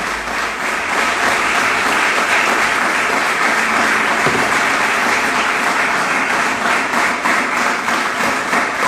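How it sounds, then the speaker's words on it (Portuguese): Loud, dense applause from a church congregation during a worship service, a continuous wash of many hands clapping that holds steady throughout without pause. "Aplauda bem forte Ele."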